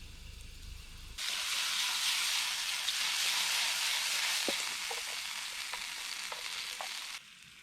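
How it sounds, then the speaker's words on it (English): Ingredients frying in a little sesame oil with garlic and soy sauce over an open fire outdoors, a sudden loud sizzle that holds steady for several seconds, with faint crackles and clicks, before cutting off. "fry up your ingredients in a little sesame oil, garlic and soy sauce"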